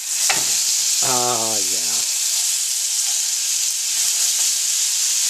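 A bone-in New York strip steak sears on a Fry 9 with a steady, loud sizzle and hiss that runs the whole time, while someone speaks briefly near the start.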